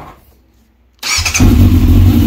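A 2001 Yamaha YZF 600R Thundercat fitted with a Yoshimura exhaust, choke pulled, cranks and fires after a second of near silence, then settles into a loud, steady, deep idle close by.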